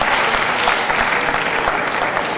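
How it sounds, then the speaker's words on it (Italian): Dense, steady audience applause at a cosplay and movie convention presentation in Lucca, a continuous wash of many hands clapping close and loud, with no speech over it. "Va bene, un piccolo applauso per Marco."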